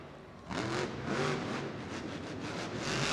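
A monster truck engine revving in a loud arena during a freestyle run, throttle rising and falling in bursts over steady crowd and vehicle roar after a quieter half-second start.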